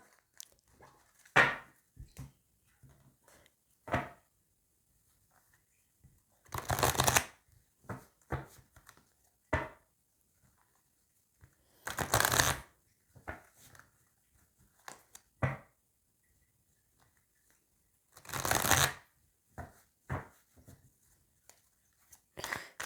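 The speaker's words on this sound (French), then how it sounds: "on va aller voir avec le tarot de Cricri un petit peu pour voir" Tarot cards are shuffled by hand in several short rustling bursts separated by quiet, with brief taps and flicks of the deck in between, close and fairly soft.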